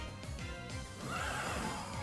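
A ghost horse Pokémon lets out its cry during a Pokémon video game battle, a loud whinnying neigh with rhythmic hoof-like beats and game music underneath.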